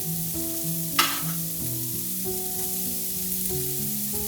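Onions stir-frying in a pan for a homemade Nagasaki Turkish rice, a steady close sizzle with scraping stirs and one sharp clatter early on, under a background of soft music.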